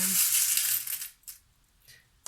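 Small metal charms tossed for a sentimental card-style reading clatter and jingle in a quick burst, then settle with a couple of faint, separate clinks and one last sharp tick at the end.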